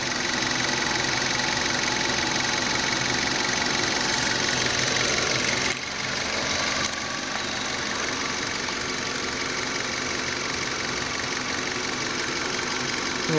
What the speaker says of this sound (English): A little more footage of the motor here.